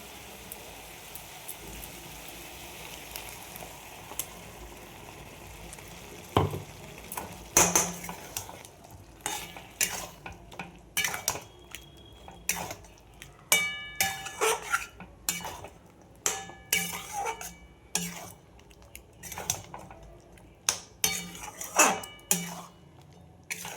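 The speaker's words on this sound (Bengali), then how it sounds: "এইভাবে আমি কষিয়ে নেব" Chicken with onion, turmeric and spices being stirred and sautéed in a pan, a soft sizzle under repeated sharp metal spoon scrapes and clanks that come in quick irregular bursts, close by and without speech.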